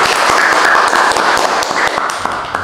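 Applause from a studio audience at the opening of an Indonesian campus podcast, a dense, steady patter of many hands clapping throughout, close and fairly loud with no voices over it.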